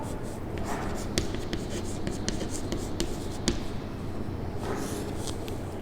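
A math formula is written by hand with a pen on paper, giving a steady run of close scratchy strokes and soft taps over a constant background hiss.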